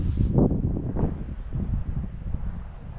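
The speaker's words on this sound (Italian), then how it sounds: "C'è parecchio vento" Strong cold wind buffeting the microphone on the misty Danish south coast, a low rumbling roar that surges in gusts and holds steady and close, with no voices.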